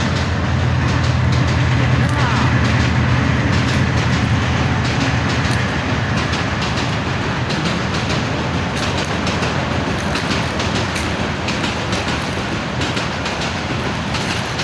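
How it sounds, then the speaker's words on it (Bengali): A long train rumbles past nearby with a continuous loud roar and rattling wheels, while someone talks over it. "এই যে ভাই ট্রেন চলে আসছে।"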